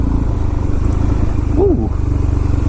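Loud motorcycle engine, an FZ09 or DRZ400, droning steadily at close range during a wheelie, with a brief rising rev swell partway through.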